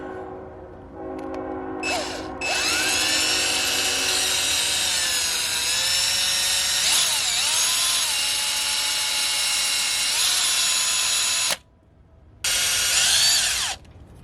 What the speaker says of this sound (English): Here we're just basically gonna drill this in